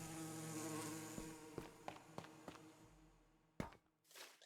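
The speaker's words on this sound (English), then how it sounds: "The high-pitched tee-hee kind of sound. That is this guy, the Mog." High-pitched, insect-like buzzing and chittering from the Mog, a creature of the Undergarden in modded Minecraft, with a few sharp clicks and taps scattered through it and a louder burst near the end.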